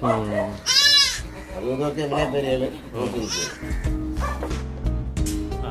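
Goats bleat loudly and repeatedly at a Kerala goat farm of about forty goats, several animals calling close by, with a dog-like bark mixed in and people talking among them.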